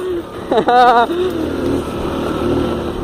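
A motorcycle engine revs while the rider spins a donut, its rough drone running under excited shouting and laughter, with a rising whoop cutting over it briefly.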